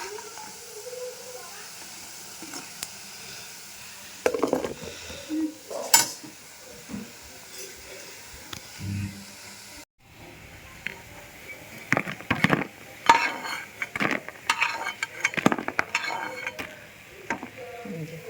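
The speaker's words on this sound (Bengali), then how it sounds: "বড়াগুলোকে এপিট করে দিয়েছি, ভালো করে লাল লাল করে ভাজা করে নামিয়ে দেবো।" Lentil fritters (motor dal bora) frying in oil, with intermittent sizzling broken up by scraping and clinking of a utensil against the pan, close by, in bursts with quieter gaps.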